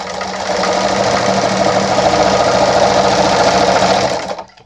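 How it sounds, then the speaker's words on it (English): A straight-stitch sewing machine set to its maximum stitch length of 5 runs steadily, a loud, close, continuous mechanical whir with rapid rhythmic needle clatter that stops abruptly at the end. "all right, I'm gonna sew through again."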